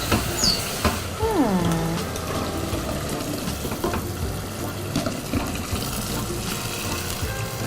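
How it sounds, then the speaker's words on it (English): Blended tomatoes go into a hot pan of sizzling, nearly burning base in a restaurant kitchen, making a loud, steady frying roar. A brief squeak sounds near the start. "then I pour in blended tomatoes"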